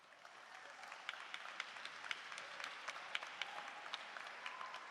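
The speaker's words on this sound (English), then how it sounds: "give a round of applause to yourselves" Students at a graduation ceremony applaud themselves, a steady patter of many claps at moderate distance with sharper individual claps standing out, lasting the whole five seconds.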